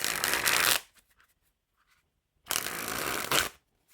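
Piff the Magic Dragon playing cards springing and fanning from hand to hand: two loud, dense riffling bursts about a second long each, separated by near silence with a few faint card taps.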